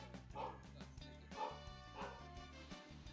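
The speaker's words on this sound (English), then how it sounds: "dog's going crazy" A dog barks excitedly in a kitchen, three loud bursts of barking spaced about a second apart over a steady background hum.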